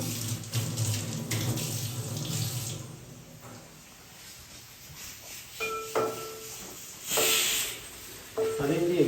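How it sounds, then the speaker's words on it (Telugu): Water pours and splashes from a tap into a container, rushing at first, then easing into intermittent trickles and short gushes, with clinks nearby. "ఎక్కువ నీళ్ళు పోసేసావు"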